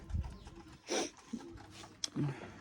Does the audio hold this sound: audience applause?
no